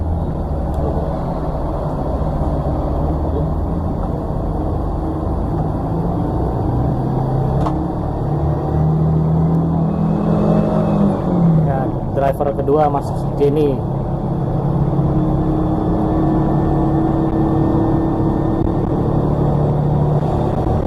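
A front-engine STJ Sharai bus drones steadily throughout with an airplane-like roar, loud and continuous, while someone speaks briefly over it midway.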